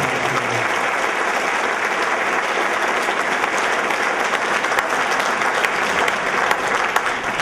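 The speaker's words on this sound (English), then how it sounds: "if you'd give those two a big round of applause" Loud, sustained applause from an audience at a spring sports awards event, many hands clapping in a dense, uniform roar that keeps a steady level throughout.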